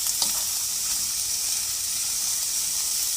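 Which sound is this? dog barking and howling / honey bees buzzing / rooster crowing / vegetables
vegetables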